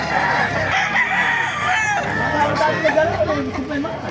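Roosters crowing repeatedly amid clucking hens and background chatter, loud and close, with people talking nearby, at a chicken market in Baliuag, Bulacan.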